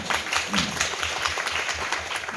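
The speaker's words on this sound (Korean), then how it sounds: "박수 주실 분들은 박수를 열심히 계속 쳐주시고요" A theater audience applauds during a musical's curtain call stage greeting, brisk continuous clapping close and loud throughout, with faint crowd murmur beneath.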